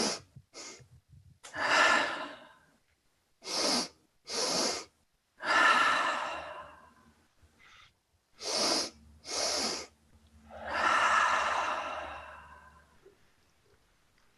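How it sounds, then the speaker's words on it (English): Breathing exercise performed alone: two quick sharp inhales, then a long, relaxed, audible exhale, repeated several times at close range with no talking. "a new one, which is a double inhale followed by a long relaxed exhale"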